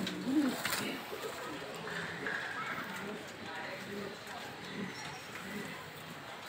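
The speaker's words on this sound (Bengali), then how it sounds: "এইটি হচ্ছে মাদি কবুতর, এটি হচ্ছে নর কবুতর" Racer pigeons, a female and a male, coo softly in low, repeated murmurs while being held and handled at close range, with a person talking over them throughout.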